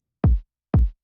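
Two punchy, deep kick drum hits, evenly spaced, each with a sharp attack and a short booming decay, heard alone.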